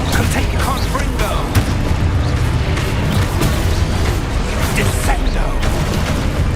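Fire spell explosions blast repeatedly in Hogwarts Legacy, booming bursts and pops layered over dense, continuous combat noise with no pauses.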